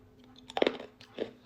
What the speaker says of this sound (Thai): แบบเคี้ยวได้คือ รสผลไม้อร่อยมาก